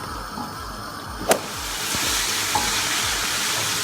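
Chicken korma with chillies sizzles steadily in a pan, a sharp clack of the utensil near the start and the frying growing louder and more even afterward, with no talking.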